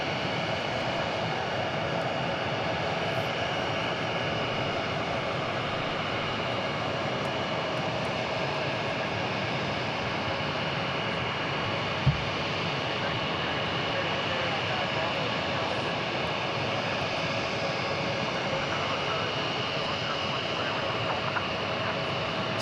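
A British Airways airliner at DFW airport gives a steady, continuous jet engine roar over the whole stretch, with light talk faintly under it.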